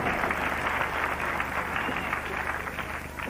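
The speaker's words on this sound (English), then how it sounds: "I always like to hear applause for a good escape." Crowd applause ringing through a wrestling hall after a quick escape in a bout, a steady dense clatter of clapping that fills the whole stretch without voices.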